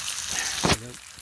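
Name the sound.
lamb steaks sizzling in pan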